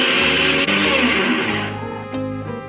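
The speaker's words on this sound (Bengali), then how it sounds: "বড়াটা বানাবো তার জন্য মিক্সিং জার নিয়েছি, এর মধ্যে ভেজানো ডালটা দিয়ে দিচ্ছি।" A mixer grinder whirs loudly as it grinds soaked lentils into a paste for dahi vada, a steady high motor whine that cuts off partway through and winds down, with brief clatter afterward.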